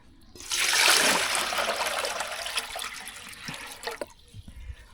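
Fresh water pours into a dog's water bowl for Max, a steady close splashing rush that runs for about three seconds, then tapers into a few drips and trickles.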